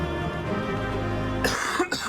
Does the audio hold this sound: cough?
yes